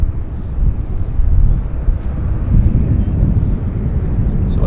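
Aircraft at Vancouver Airport, a loud sustained roar of jet engines with a steady low rumble and some wind buffeting, continuous throughout with no talk.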